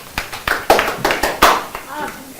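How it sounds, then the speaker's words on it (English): A classroom of students applauds at the end of a stock pitch in a sales and trading class, sharp hand claps arriving in uneven bursts with some voices mixed in. "Clap for him."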